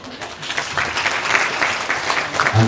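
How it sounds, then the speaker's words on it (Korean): Audience clapping at a franchise business presentation for a galbi delivery lunchbox brand, a dense, steady patter of many hands in an indoor hall lasting a few seconds. "박수 안 치셔도 되는데"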